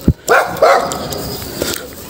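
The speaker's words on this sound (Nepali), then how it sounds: "करायो कुकुर करायो।" A dog barks close by in a few sharp, loud bursts over about two seconds, with brief gaps between the barks.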